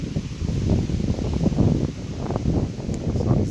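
Heavy wind buffeting a microphone outdoors in an Alberta garden, a loud, low, continuous rumble that swells and dips throughout.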